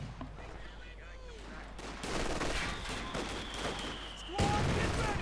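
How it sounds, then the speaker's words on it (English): Mortar rounds and gunfire in a Company of Heroes 2 1v1 match, with sharp bursts and booming impacts layered over a dense battle din, growing louder toward the end. "Mortar rounds going down."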